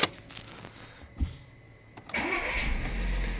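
A 2010 VW Scirocco engine cranks and catches on a newly programmed key, with a brief click and whir before the start, then settles into a steady close idle after about two seconds.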